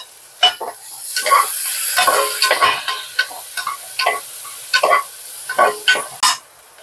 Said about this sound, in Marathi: थोडं एक ते दोन मिनटंच परतून घेणार आहोत